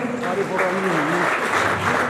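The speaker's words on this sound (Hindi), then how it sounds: "एक बार जोरदार तालियां" Steady applause from a crowd fills the room at a college alumni meet while a voice speaks loudly over the clapping.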